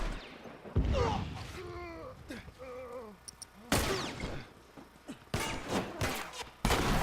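Gunshots in The Last of Us, with several loud, sharp cracks scattered among voices and game noises, including a strong blast partway through and another near the end.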